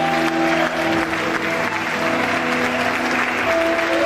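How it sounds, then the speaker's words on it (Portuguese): A church congregation applauding during an Easter service, steady dense clapping filling the room for several seconds over a sustained background tone. "Aplaude o Senhor nesse momento"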